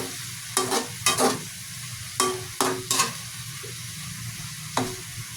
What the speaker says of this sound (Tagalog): Tapos haluin lang natin at nang magpantay yung kulay.